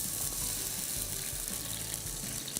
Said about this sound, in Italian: Aggiungiamo un goccetto d'acqua